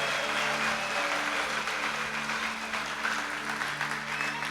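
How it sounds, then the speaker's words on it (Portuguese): A church congregation gives a steady round of applause for the children, a dense patter of many hands clapping at moderate volume throughout, with a faint steady hum underneath. "Será que os papais podem dar uma salva de palmas para as nossas crianças?"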